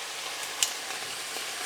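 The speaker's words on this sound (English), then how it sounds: "I'm going to be frying them up." Carrots frying in a single pan for hoisin beef noodles, giving a steady soft hiss of sizzling throughout with one brief brighter crackle near the start, close by and without talk.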